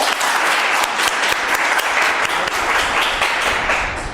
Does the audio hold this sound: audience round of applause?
yes